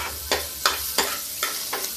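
Onions with cumin seeds fry in hot oil, a steady close sizzle punctuated by five evenly spaced stirring scrapes at roughly third-second intervals, loud and alone with no talk.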